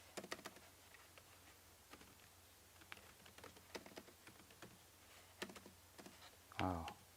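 Someone types on a computer keyboard in irregular bursts of crisp clicks and taps at close range, with short pauses, and a brief low voice sounds near the end.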